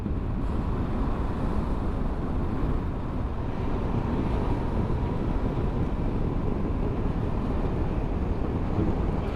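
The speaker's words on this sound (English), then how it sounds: "It is windy up here actually." Steady wind buffets the microphone on a mountain road above the Lysebotn fjord in Norway, a continuous loud rumbling roar that holds unchanged for about nine seconds with no voices.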